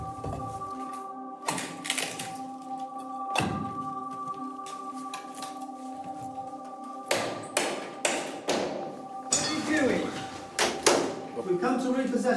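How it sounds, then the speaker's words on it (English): A High Court enforcement officer knocks on a house door during a property repossession, with several separate bursts of loud, close thuds and rapid raps spread through the clip over a steady tonal hum. "People become face to face with a debt situation when a High Court enforcement officer knocks on the door"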